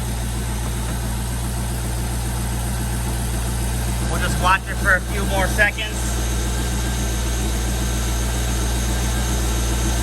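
A C5 Corvette's LS V8 engine idles with a steady, deep lumpy rumble throughout, while someone briefly speaks over it midway.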